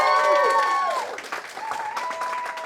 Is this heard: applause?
yes